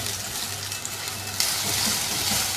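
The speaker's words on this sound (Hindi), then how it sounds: "तेल हल्का सा गर्म हो जाए तो इसमें एक दरमियाने साइज़ की प्याज कच्ची पिसी हुई शामिल कर देंगे" Raw ground onion, a medium-sized one, hits lightly heated oil in a karahi for ginger chicken, giving a steady, close hiss that brightens and grows louder partway through.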